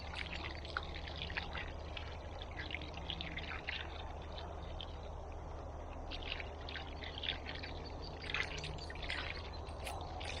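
Water poured out around a spot for honey bees to drink, a steady trickling and splashing close by over a low background hum with faint birdsong, no talking.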